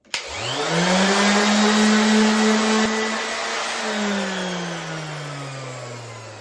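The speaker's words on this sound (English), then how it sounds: "Probably just gonna try to sand it down." A power sander meant for a DIY guitar body starts up with a jolt and runs freely as a loud, steady motor whine, then gradually slows and winds down.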